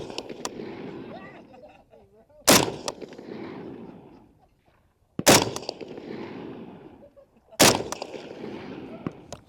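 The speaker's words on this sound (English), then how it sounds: "This was also my first time shooting a G3 or 91." An HK G3 rifle fires three semi-automatic shots at an outdoor range, each a loud, sharp crack with a thumping echo that rolls off over a couple of seconds, while people talk quietly between shots.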